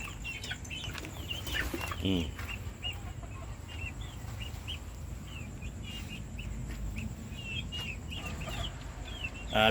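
Bulik gamecock chickens cluck and chirp in a pen, a busy close chorus of short repeated calls over a steady background hum, with a brief louder squawk near the start.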